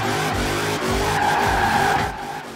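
A Chevrolet Impala drifts in the video game Forza Horizon 4, its tires squealing in long continuous screeches over a loud, steady engine roar.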